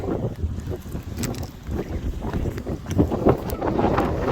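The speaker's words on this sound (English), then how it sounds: "It's getting real windy out here." Strong, steady wind roars and buffets the microphone on a clifftop at Pointe du Hoc, Normandy, France, a continuous rushing gusty noise with no voices.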